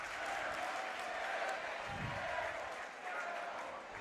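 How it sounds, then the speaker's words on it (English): Crowd at a North Polk high school varsity basketball game applauding and cheering steadily, a broad distant roar of many hands and voices with a commentator talking over it. "North Polk crowd continuing to be loud tonight"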